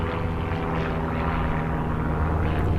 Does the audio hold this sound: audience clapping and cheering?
no